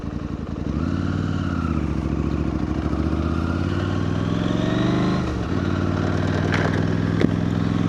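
A KTM 890 Adventure motorcycle engine pulling away, a loud, close, steady throbbing drone with a shifting pitch and a brief dip partway through before carrying on.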